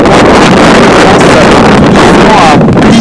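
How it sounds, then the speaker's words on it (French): Strong wind gusts roar through a pouring rainstorm, bending fir trees over an open plain; a loud, continuous broadband rush with buffeting against the microphone throughout. "On voit bien que les rafales deviennent de plus en plus fortes en ce moment."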